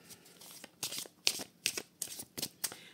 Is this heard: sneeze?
no